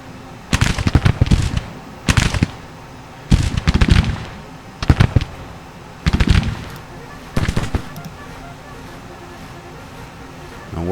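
Civil War-era artillery fire in Grand Tactician: The Civil War, heard as about six loud, rumbling volleys of overlapping booms and cracks with short quiet gaps between them.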